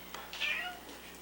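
A domestic cat gives a short, fairly faint meow in a quiet indoor-outdoor setting, a single rising-and-falling cry with no talking over it.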